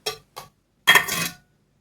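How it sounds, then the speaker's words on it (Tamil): Cut potato pieces drop into a bowl at close range: two quick light taps, then a short clattering tumble, with silence between and no talking. "கட் பண்ண உருளைக்கிழங்க ஒரு கிண்ணத்தில் போட்டுக்கலாம்."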